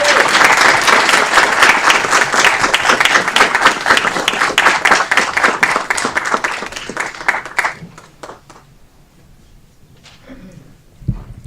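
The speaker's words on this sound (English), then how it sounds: "As she joins the mayor, please give a big round of applause for our poet laureate, Karen Christensen." Audience at a city council meeting in Aurora applauding a newly introduced poet laureate, with dense, loud clapping for about eight seconds before it thins out into a few scattered claps and quiet room sounds.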